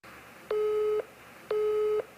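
A phone busy tone on a call that rings then gets rejected: two evenly spaced, steady electronic beeps, each about half a second, against a faint line hiss.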